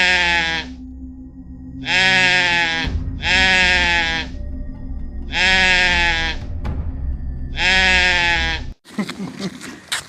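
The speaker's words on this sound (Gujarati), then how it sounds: "આ બકરો તો મારી વહે જ પડી ગયો" A goat bleats loudly and close by, five long wavering calls in a row with short gaps between them, followed by a brief rustling noise at the very end.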